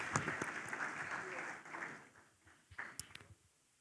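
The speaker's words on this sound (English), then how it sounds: "so please, another round of applause." Light applause from an audience fades out over a few seconds, a few scattered claps lingering at the end.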